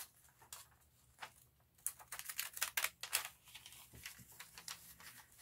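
Jagged-edge craft scissors snipping through paper, with a series of quick, crisp cuts and rustling that grow busier and louder toward the end.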